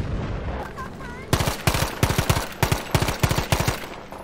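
Rapid bursts of gunfire in the World War II shooter Battlefield V, a fast stuttering run of loud, closely spaced shots that starts after a quieter stretch and keeps going in clustered volleys, with a voice talking underneath.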